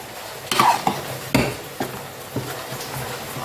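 Cauliflower being stirred with masala in a pan for cauliflower gravy, heard as a few sharp spoon-on-pan knocks and scrapes, spaced irregularly and close, with quiet gaps between.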